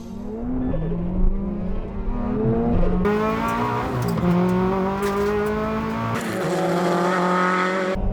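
Race cars launch together at the start of a mountain pass battle, engines revving hard and climbing through gear changes, loud and close, with rising and falling tones overlapping and tyre noise.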